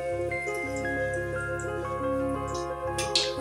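Batter-coated pitha sliding into hot frying oil, a soft continuous sizzle with faint bubbling and a small splash near the end, close and quiet, with no talk.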